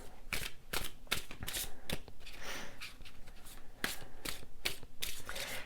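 Tarot cards are shuffled by hand in quick, close riffling bursts separated by short pauses.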